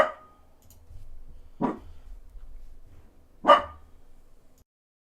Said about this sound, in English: let's take a couple-minute break while he fucking gets these barks out